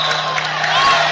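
A high school boys' championship basketball crowd roars steadily, with Oakdale's student section cheering loud and close in a dense, continuous wash of voices and a low hum beneath.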